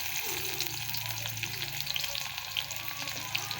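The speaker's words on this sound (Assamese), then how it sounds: "এয়া চাওক, তেল গৰম হ'ল। ইয়াত এটা শুকান জলকীয়া দি দিছোঁ। শুকান জলকীয়া, তাৰপাছত ইয়াত পিঁয়াজ" Dried chili and onion frying in hot oil in a pan, a steady, close sizzle and crackle throughout with a faint stirring, no talking.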